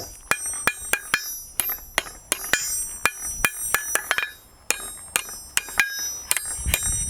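A hammer strikes hot steel over the edge of an anvil while a scroll is forged, a fast, irregular series of loud, ringing metallic blows close by, with brief pauses between runs.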